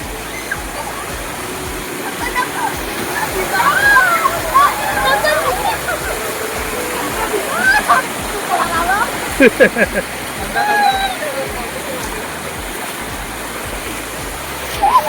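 Prabalgad waterfall at Dongarachi Wadi pouring and splashing, a loud broadband rush of falling water with close splashes from people playing in it, while voices talk and shout over the roar.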